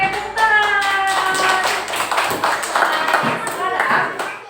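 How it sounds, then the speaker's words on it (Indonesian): Children in an Islamic classroom clap their hands in rhythmic taps, mixed with voices and chatter from the group, fairly loud and close. "Oke, tepuk tangan."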